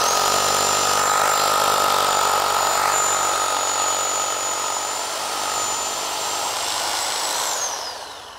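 INGCO RH18008 rotary hammer running steadily with a loud, continuous high-pitched whine and motor drone for about seven seconds, then winding down near the end.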